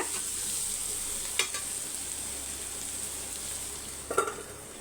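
Capsicum stir-frying briefly in a hot pan for egg vegetable fried rice, a steady low sizzle with two brief spatula scrapes, moderately quiet and without voices.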